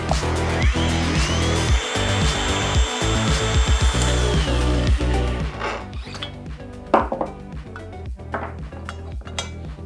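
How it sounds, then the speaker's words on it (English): A ROTHENBERGER ROBEND 4000 electric pipe bending machine runs in reverse to release a bent pipe. A loud motor whine runs first, then a whirring drive sounds under clicks and metallic clatter nearby. "Now, let the machine run backwards to remove our pipe."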